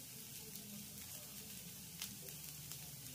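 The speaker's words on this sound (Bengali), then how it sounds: "এবার আমি এই পেঁয়াজ কুচিটাকেও রসুনের সঙ্গে হালকা করে একটু ভেজে নেব।" Chopped onion and garlic fry gently in a pan, giving a soft, steady sizzle with faint crackles throughout.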